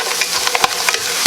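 Peppers and onions cooking in a pot for chili give a short burst of bright sizzle with a few crisp ticks and pops, close and fairly loud.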